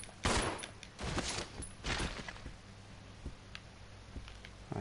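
Gunfire in the survival horror game Resident Evil Zero on PS4: a quick burst of loud, sharp shots at the start, then scattered fainter reports and ticks.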